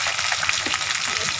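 Fish fry in oil in a badly burnt kadai, giving a steady, loud, dense sizzle and crackle up close with no one talking.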